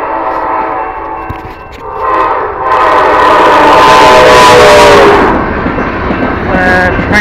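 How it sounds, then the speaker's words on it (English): A BNSF freight train rolls through a grade crossing in Castle Rock, Washington, close and loud, rumbling steadily while its horn sounds repeatedly, swelling to a long blast before fading back. "That's a cargo train."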